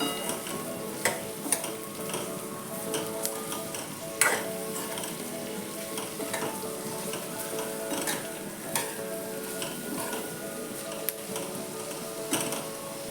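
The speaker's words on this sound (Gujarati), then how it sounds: "હવે એમાં આપણે આ જે પરવળના સ્લાઇસ કરી હતી એ એડ કરશું અંદર અને બધું સારી રીતે મિક્સ કરી દઈશું" Sliced pointed gourd is stirred into frying onions for a Gujarati parval and onion dish, with a soft continuous sizzle and repeated spoon scrapes and clacks against the pan, close but fairly quiet.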